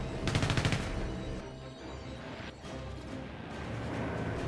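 Bursts of fire from nose-mounted synchronized 7.7 mm machine guns and 20 mm cannon on World War II fighters in a War Thunder air battle, a rapid loud rattle at the start followed by dense, continuous engine and gunfire noise.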